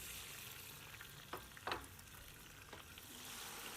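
Whole tomatoes dropped into hot oil with frying garlic and chilli, a continuous soft sizzle with a few sharper crackling bursts near the middle, close and fairly quiet, without talk.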